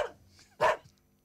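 A dog gives one sharp, close bark after a faint whimpering yip, then silence.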